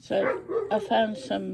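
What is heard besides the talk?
dog barking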